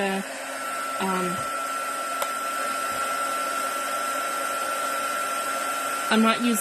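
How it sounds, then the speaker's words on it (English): Embossing heat gun blowing hot air, a steady close whirring hiss with a constant tonal whine, used on a steampunk journal cover, with a voice briefly speaking at the start and end. "So I'm using an embossing gun."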